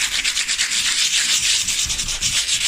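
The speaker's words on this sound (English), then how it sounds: "I just want to quickly go over it a little bit more just with the sandpaper" Sandpaper scrubbed by hand over a woodchip-papered door to smooth old paint, a steady close rasping friction in quick repeated strokes that continues without pause and with no voices.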